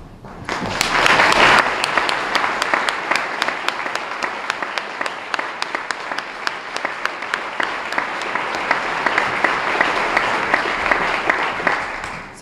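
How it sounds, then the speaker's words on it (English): Long, loud applause from a room of people honoring veterans at an award event: dense, sustained clapping with a sharp burst at the start, settling into steady rhythmic claps, with faint crowd murmur beneath. "we'd like to give you a round of applause for your service to this country."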